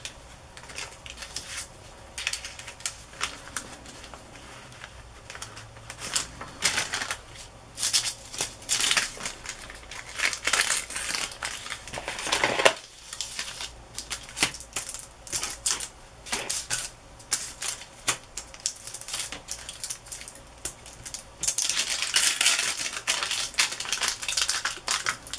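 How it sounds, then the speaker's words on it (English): Tracing paper is torn and crumpled by hand while crafting a vintage journal, close and crisp with irregular rips and crackles that come in bursts across the whole stretch. "Tracing paper is a little harder to tear, but we did it."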